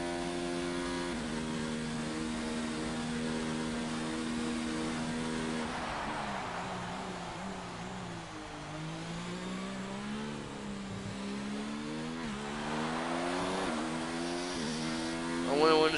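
Race car driving alone down the back straight at Abu Dhabi in a racing video game, engine note rising and falling through shifts, sustained and fairly loud, with a commentator talking over it.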